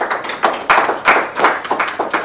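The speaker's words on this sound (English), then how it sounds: "Please a round of applause for him" A small burst of applause for a guest at a business summit and awards event, a few people clapping in uneven close bursts for a couple of seconds.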